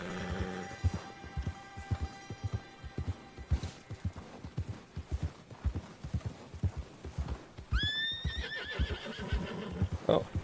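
In the video game Red Dead Redemption 2, spooked horses whinny and snort over a steady clip-clop of hooves, with rhythmic thumping throughout and a sharp neigh near the end.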